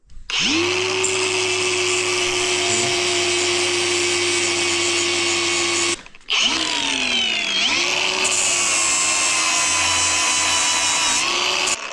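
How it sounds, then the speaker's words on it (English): A power grinder working a steel bushing blank in a trailer-building workshop, a loud sustained whine with grinding rasp, pausing briefly around midway then spinning back up and continuing. "when you try to grind this thing, it doesn't produce any sparks"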